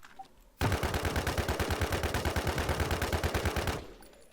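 A gun in the NewZ video game fires one sustained rapid automatic burst of about three seconds, loud and close, with evenly spaced shots that stop abruptly.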